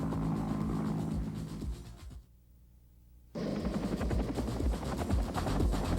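A Vietnam War-era military helicopter flies past with a steady, heavy rotor and engine roar that briefly drops away before surging back loud and close.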